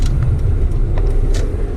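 A 1992 Honda Civic hatchback driving, its steady low engine and road rumble heard from inside the cabin, close and continuous, with a few faint clicks and knocks over the drone.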